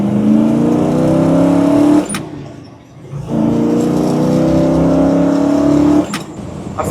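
A 1966 Pontiac GTO with a 360-horsepower V8 and three carburetors accelerates hard, its loud close engine note rising through the gears, dropping briefly at a shift, then climbing again with another gear change near the end; no speech.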